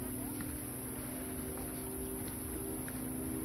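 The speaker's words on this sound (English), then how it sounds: "Oh, jet boat." A jet boat motors across a lake cove, its steady engine drone and water rush continuous and moderately distant under outdoor wind noise.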